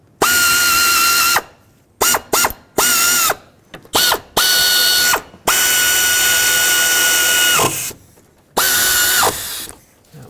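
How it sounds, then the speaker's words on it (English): An air ratchet runs down alternator bolts on a 2001-2007 Volvo V70 in loud, close whirring bursts. A long steady run is broken by shorter quick pulls and pauses. "the air ratchet made them snug for now"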